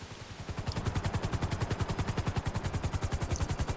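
A helicopter in the video game GTA Online gives a loud, rapid, even rotor thumping that starts up and then holds a steady chopping rhythm, with no voices over it.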